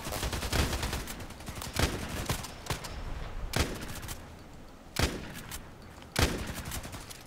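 Shotgun blasts in a video game firing over and over, about six sharp loud reports at uneven intervals with brief rattling decays between them, no talking.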